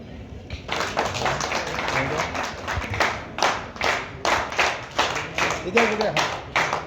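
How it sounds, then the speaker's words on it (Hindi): An audience claps at an outdoor women's awareness fair, with bursts of rhythmic, uneven hand claps that grow and pulse over several seconds. Talk runs underneath the clapping. "वो तालियां तो कम से कम वो बजे दीजिए।"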